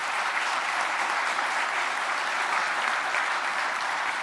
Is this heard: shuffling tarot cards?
no